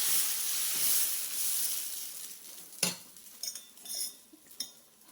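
Chopped vegetables are stirred through masala in a cooking pan for a dried fish curry. A steady hiss of frying runs throughout, with a sharp metal scrape and a few clinks of the spoon against the pan toward the end.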